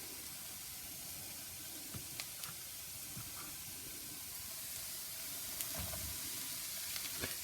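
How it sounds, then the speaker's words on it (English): Mushrooms sauteed in a pan with other vegetables give a soft, steady sizzle and hiss, quiet and close, with occasional light clicks and scrapes of stirring. "let's throw in the mushrooms now that everything is getting nice and"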